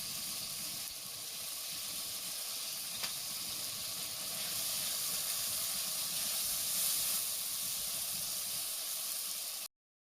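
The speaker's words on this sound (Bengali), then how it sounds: "মশলাটা ভাজা হয়ে গেছে" Turmeric and spices frying in hot oil for a Bengali-style fish curry, a steady close sizzle with bright hissing that holds evenly throughout, no talking.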